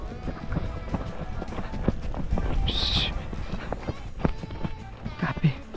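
A horse runs on deep sand, its hoofbeats thudding steadily and close under wind noise and rider movement, with a brief high whinny-like sound and people talking over it.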